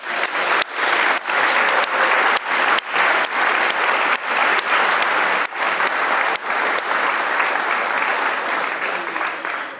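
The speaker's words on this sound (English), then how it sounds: "Let's give a big round of applause to all of the teams." An audience applauds the student game programming teams at a university final presentation, with sustained loud clapping broken by a few brief pauses.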